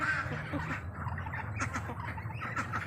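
Several ducks quack and chatter close by, overlapping in a busy flock with low background noise.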